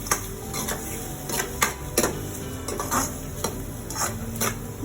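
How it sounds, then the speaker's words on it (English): Onions frying in a pan with salt, a steady sizzle under repeated sharp scrapes and knocks of a spoon stirring against the metal, close and fairly loud. "Give a stir. Let the onions turn to golden brown color."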